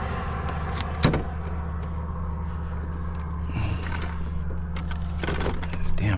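Steady road traffic rumbles past a roadside spot where a fast 1/7 GT RC car is being run, a continuous low engine and tyre drone with a couple of brief louder thumps, no voices.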